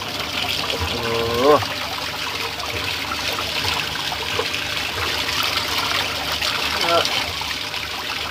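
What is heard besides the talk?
spring water trickling over quartz stones being washed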